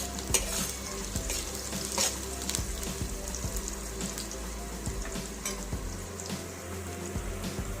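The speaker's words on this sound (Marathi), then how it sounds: "कांदा असा घालून घेऊ आणि छान परतवून घेऊ" Onions sautéing and being stirred in a pan for a Marathi harbhara bhaji: a steady close sizzle with repeated scraping stir strokes throughout, no voices.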